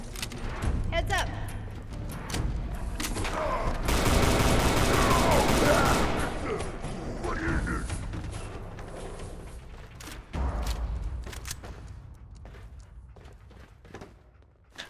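Shotgun fire from combat in the video game Fallout 4, a dense burst of loud blasts mixed with other game sounds, with someone talking over the action.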